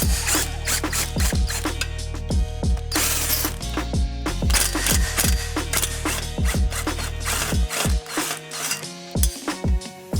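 A ratchet wrench undoing exhaust manifold bolts on a 2012 Subaru Forester, with bursts of rapid metallic clicking, a few clanks and pauses between turns, close and loud.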